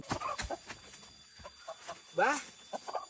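Chickens clucking in a Sundanese comedy sketch, short bursts of fowl calls interleaved with people talking nearby.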